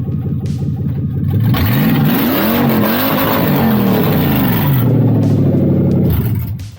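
Toyota 3UZ V8 engine running and being revved, the pitch sweeping up and down repeatedly over a steady idle, loud and close.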